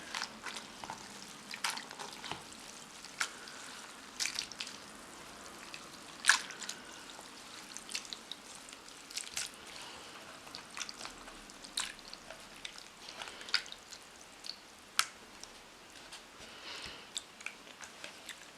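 A crochet piece soaked in glue thinned with water drips and squelches: scattered wet drips and soft splashes, close and irregular, over a quiet background.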